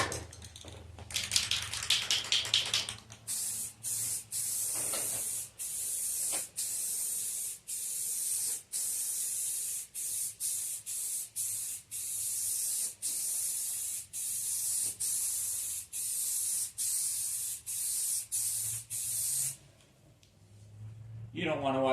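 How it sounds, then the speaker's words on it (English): Spray paint hisses in repeated short bursts as filler primer goes onto a go-kart body in a makeshift paint booth, each stopping and starting in a steady rhythm, close and fairly loud, with a fan humming underneath. "I'm going to start with some filler primer, and we're just going to get to spraying this."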